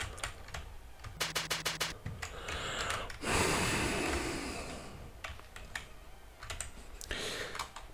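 Fast bursts of keystrokes on a computer keyboard while typing a chat message during a Minecraft Skywars game, close and clear, in irregular clusters separated by breathing and a loud exhale, with no talk.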